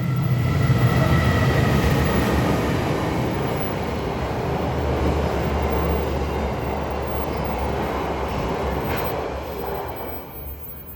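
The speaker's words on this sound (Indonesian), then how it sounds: "Ada kereta sebentar." A train rolls past loudly and steadily, wheels clattering on the rails with a rumbling roar that eases slightly toward the end.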